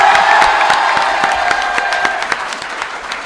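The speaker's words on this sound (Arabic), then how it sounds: "الو غادي نصفقوا اليوم على واحد السيده" An audience breaks into dense, steady applause with some cheering for a woman guest being welcomed onto a Casablanca stage show, loud and continuous before tapering slightly toward the end.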